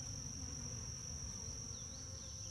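Honey bees buzzing around a hive during a summer inspection, a faint steady high whine with occasional passing swoops as individual bees fly close.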